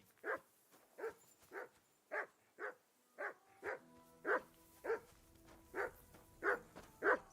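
A dog barks repeatedly in a steady rhythm, about a dozen sharp barks close by, with faint background tones behind them.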